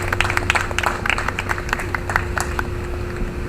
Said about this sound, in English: everybody needs to get a round of applause for all the community gardeners